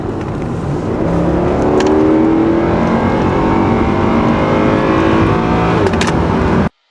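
A car engine accelerates steadily on the road, its pitch rising through several gear-like sweeps over a loud, continuous drone with no speech.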